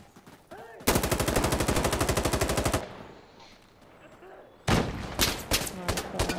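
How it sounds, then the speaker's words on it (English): Insurgency: Sandstorm firefight: a long sustained burst of fully automatic rifle fire rattles loudly up close, falls to a quieter lull, then more sharp close shots erupt near the end. "Someone's shooting him."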